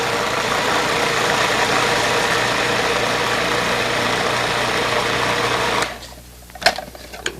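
A food processor grinds garlic and beans into hummus paste, a steady loud motor whir running without a break for about six seconds, then cutting off into a quieter stretch with a few sharp clicks and knocks.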